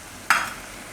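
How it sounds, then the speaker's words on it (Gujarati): Whole spices hit hot ghee in a pan for sweet saffron rice, a sudden loud sizzling burst that quickly fades to a soft hiss, heard briefly up close. "અને ઘીમાં આપણે નાખીશું બધાય મસાલા"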